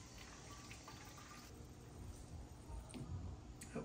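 Worm casting tea running from a tap into a bottle: a steady, faint gushing and filling wash with gurgles building toward the end, no voices.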